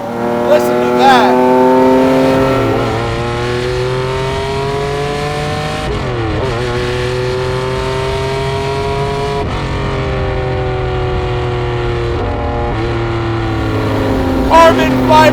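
Lamborghini Diablo SVR factory race car engine revving hard while driving, climbing through the gears with sharp pitch drops at each shift, loud and close throughout, with a voice talking over it.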